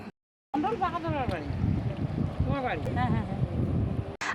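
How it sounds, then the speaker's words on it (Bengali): A river boat comes across from the far bank, its engine a low steady drone under wind noise, while a voice talks over it throughout. "শব্দ তো শুনতেই পারছো, ওই পার থেকে নৌকা আসছে"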